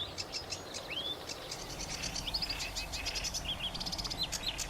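Several birds sing in quick, varied chirps and whistled phrases in a reed bed, likely sedge warblers and grasshopper warblers, somewhat distant, over a faint hiss and low rumble.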